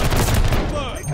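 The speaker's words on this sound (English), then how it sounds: "Somebody shooting." Dense burst of rapid gunfire in the video game Call of Duty: Vanguard, loud and continuous over about a second with overlapping shots.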